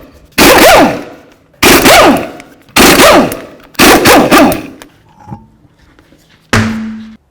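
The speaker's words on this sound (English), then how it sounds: "one of the first things we have to do is remove all 5 of our lug nuts and then remove the wheel" An impact wrench or similar power tool spins off the lug nuts of a front wheel on a 2006-2012 Ford Fusion, giving five loud, close bursts of buzzing rattle separated by short pauses, and ending with a brief mechanical whir.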